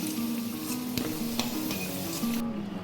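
A boiled egg fries in oil left from frying potatoes, giving a constant close-up sizzle with a few soft taps and scrapes, cutting off abruptly near the end.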